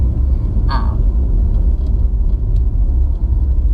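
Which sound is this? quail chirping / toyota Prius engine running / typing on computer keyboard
toyota Prius engine running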